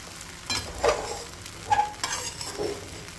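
A spoon stirring sabudana khichdi with potatoes in a pan, a few scraping strokes over a soft sizzle, close and fairly quiet.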